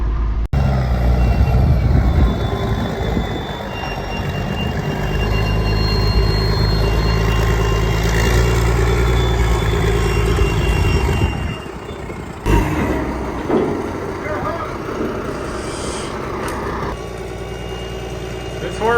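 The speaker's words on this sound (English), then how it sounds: "got his loader running over there" A loader's diesel engine runs with a steady, loud low rumble and drone that dips briefly partway through, with people talking faintly nearby.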